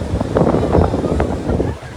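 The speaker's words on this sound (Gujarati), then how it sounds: "ફર્સ્ટ ક્લાસ પવન આવે એવી મજા આવે" Strong coastal wind buffets the microphone in steady, rumbling gusts at the seaside Bhadkeshwar Mahadev temple in Dwarka, with the sea surrounding the spot after dark.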